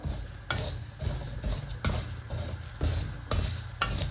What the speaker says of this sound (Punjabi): ਆਪਣੇ ਦੂਜੀ ਵਾਰੀ ਪਾਏ ਵੇ ਵੀ ਪੂਰੀ ਤਰ੍ਹਾਂ ਟਿੜਕ ਗਏ ਕਿਉਂਕਿ ਬਹੁਤ ਜ਼ਿਆਦਾ ਗਰਮ ਆ